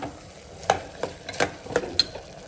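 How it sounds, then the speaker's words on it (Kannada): Vegetables with turmeric powder are stirred in a pan for a soya vegetable pulao: a series of sharp, close scraping strokes over a faint, steady sizzle, with no talking. "ಇದನ್ನೆಲ್ಲ ಒಂದು ರೌಂಡ್ ಮಿಕ್ಸ್ ಮಾಡ್ಕೊಳ್ಳೋಣ"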